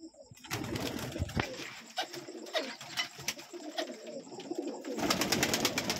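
Pigeons in a home coop flutter and coo: continuous soft cooing and wing flapping, moderately close and steady throughout, with no talk.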